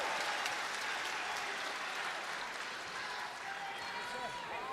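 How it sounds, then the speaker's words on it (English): A wrestling arena crowd at an AEW Dynamite match applauds in a broad, continuous wash, heard at a distance and slightly faint beneath a commentator talking over it. "I'd like to think they were applauding"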